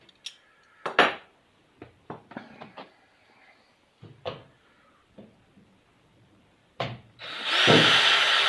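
Drilling and tool handling while building CH 750 STOL fuel tanks: scattered sharp clicks and knocks, then a loud sustained drill whine starting near the end.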